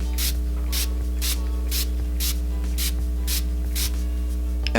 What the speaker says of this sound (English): And now, Farsali spray. I'm gonna spray everywhere once more.